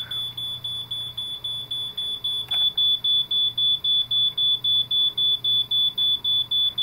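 First Alert BRK smoke alarm under test with a faulty, weak horn, giving a rapid steady train of thin high beeps, close and alone, struggling and uneven at first before settling into regular pulses.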